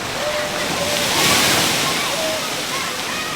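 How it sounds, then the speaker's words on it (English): Steady rushing, splashing water from a splash pad with slides and a pool at Bali Zoo, a continuous broadband wash with faint voices in the background. "They have a splash pad with slides and pool."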